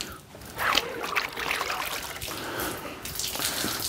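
Water splashes and trickles while a detailing clay bar is rinsed off during decontamination of a C7 Corvette, a steady running wash with brief louder splashes and no talk.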